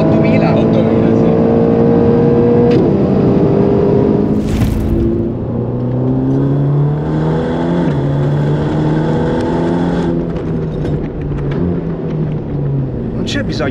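A Ferrari Roma's engine roars loud and close with rising and falling pitch through shifts from sixth down to fourth gear, under people talking, with a brief whoosh midway.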